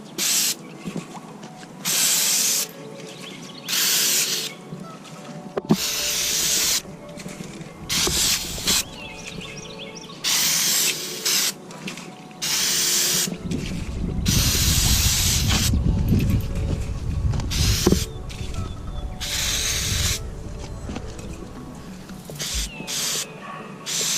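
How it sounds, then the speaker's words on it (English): Brake cleaner hisses from an aerosol can onto a wheel in repeated bursts of varying length, sharp and close, broken by pauses, can handling clicks and a stretch of rattling, scraping work. "I have some brake cleaner here. We're going to spray that on."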